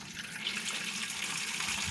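Water from a garden tap running steadily into a watering can, a continuous close rushing splash with no break.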